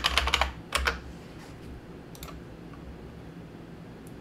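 Fingers tap out a short word on a computer keyboard in a few quick bursts of close, crisp key clicks, followed by a quieter pause and a single final click.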